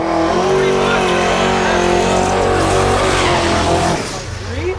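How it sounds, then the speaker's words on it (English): A twin-turbocharged 1973 Plymouth Roadrunner with a Dodge motor roars loudly down a no-prep drag strip, its engine howling steadily with tire squeal, then fading near the end as a voice talks over it. "73 Plymouth Roadrunner. It's a turbocharged, twin turbocharged actually,"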